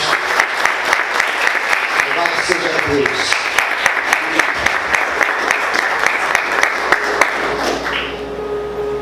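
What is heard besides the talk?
congregation applauding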